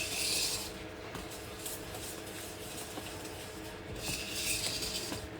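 A whisk scrapes and rubs through brownie batter made with dates and walnuts in a bowl, in steady strokes with brighter swishes at the start and near the end, heard close up and alone.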